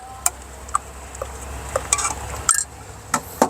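A spoon stirs sweetened condensed milk into 100 ml of hot water in a cup for cappuccino, giving sharp, irregular clinks against the cup over a low steady hum, close and fairly loud, with no voices.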